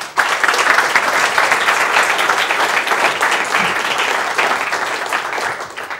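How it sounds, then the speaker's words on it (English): Warm applause from a lecture audience greeting the speaker at the Lighthill Lecture 2017 on fluid dynamics, a dense, even wash of many hands clapping for about six seconds before fading slightly at the end, with no speech. "sometimes people clap before the talk"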